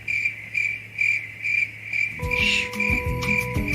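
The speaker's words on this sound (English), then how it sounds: "I hear crickets." Crickets chirp in a steady pulsing rhythm, close and clear, with other sounds joining underneath in the second half.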